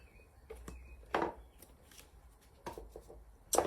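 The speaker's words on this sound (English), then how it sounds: "I'm gonna get numerology cards out as well." Numerology cards are handled and shuffled close by, giving soft papery flicks and a few sharper riffling bursts spaced irregularly over a few seconds, quiet and without talk.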